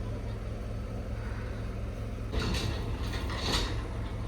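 A house door is pushed shut with a muffled thud and a short rattle, followed by another faint knock, over a steady background hum.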